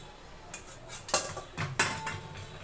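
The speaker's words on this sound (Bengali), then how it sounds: "এবারে যে ইয়ে ঢাকনাটা তুলে নিচ্ছি" A lid comes off a cooking pot of oil-free chicken curry, with a few metallic clanks and scrapes over a quiet kitchen background, two louder knocks standing out, no voices.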